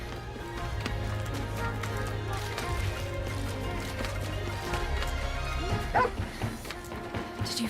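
A companion dog in the video game Beast of Reincarnation gives a few short barks and yips amid steady game ambience and music, fairly close but not much louder than the background.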